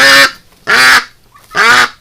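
A duck honks three times in loud, evenly spaced calls while being held and handled during late-night winter chores, with each harsh call lasting about a quarter second and separated by short pauses.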